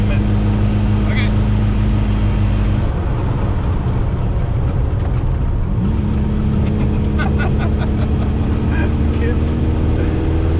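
A pink 1969 VW Beetle engine loud and close, holding a steady drone, then shifting pitch as it accelerates and rising through the revs, with loud wind buffeting throughout and voices talking over it.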